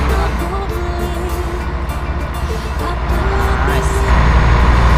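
A steady, low engine hum and road rumble inside a moving intercity bus, fairly loud and continuous, with faint tonal whines rising and falling.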